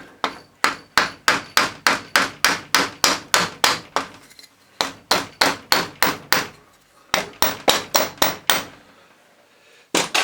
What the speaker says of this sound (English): We'll just try the rubber hammer first to see if it moves.